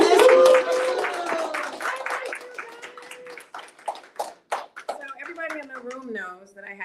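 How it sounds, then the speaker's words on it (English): A room audience claps in scattered, uneven bursts that fade to a few separate claps, with a voice talking over them. "I just want you guys to clap for everybody."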